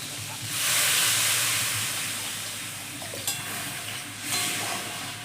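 Water hits a hot pan of figs and potatoes, bursting into a loud rushing hiss of steam that swells, holds and slowly fades, with small clinks and a second surge near the end.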